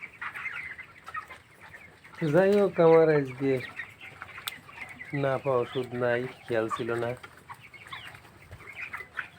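Seventeen-day-old broiler chickens cluck in loud, close bursts in a poultry shed, a run of repeated calls early and another cluster midway, while someone talks quietly in between.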